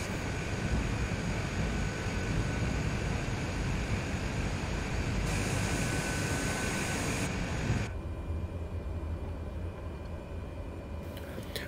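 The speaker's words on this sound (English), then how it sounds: "Today we are back in the Cessna Grand Caravan," A Cessna Grand Caravan 208B turboprop engine idles at the hold short line in Microsoft Flight Simulator, a steady loud broadband drone with a faint whine that drops slightly partway through.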